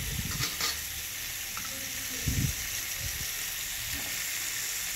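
Tomato and green chili sizzle steadily in a hot pan with oil, a constant close frying hiss broken by a few soft thuds of stirring, with no voices.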